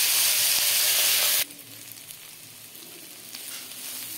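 Chopped onion and green chili hit hot oil with dried chilies in a pan, a loud dense hiss that abruptly drops to a quieter, steady crackling sizzle, close up and with no voices.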